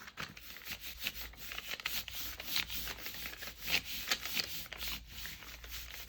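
Firm hand rubbing over a gelli print on paper, a dry scuffing texture in uneven strokes with a few brief louder swipes, close and steady throughout with no talking.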